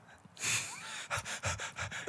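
A person imitates panting with quick rhythmic breathy huffs, a burst of airy exhales followed by a run of short regular pants, close to the microphone and alone without words.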